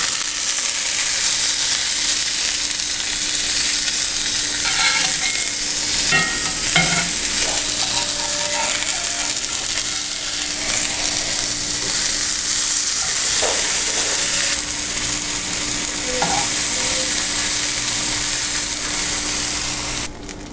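Salt-and-pepper seasoned onions fry and caramelize in a pan, a steady loud sizzle running throughout with occasional scrapes and stirs; no one speaks.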